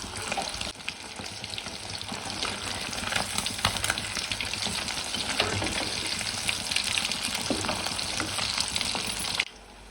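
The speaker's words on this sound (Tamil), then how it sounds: "மீன் பொரிக்கும் போதே அவ்வளவு வாசமா இருக்கு." Fish sputter in hot oil in a home kitchen, a continuous crackling sizzle with frequent sharp pops and occasional stirring noises, heard up close.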